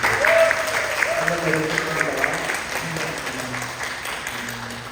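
A church congregation applauds to welcome newly attending families at a Sunday service, a steady patter of clapping that starts strong and slowly fades, with a voice speaking over it.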